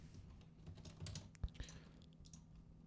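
Fingers typing on a computer keyboard while entering a value in Unity, a short, quiet run of soft clicky keystrokes with one sharper tap, close and alone.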